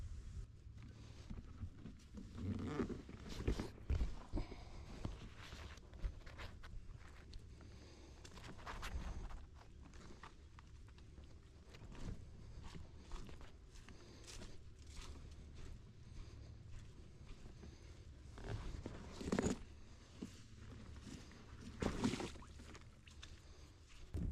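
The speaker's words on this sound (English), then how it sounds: "let me get this boat in the water" A Sea Eagle EZLite10 inflatable kayak is launched into the water at Annapolis, Maryland: faint scraping, thumps and splashes come in scattered bursts over a quiet outdoor background, with footsteps and rustling between them.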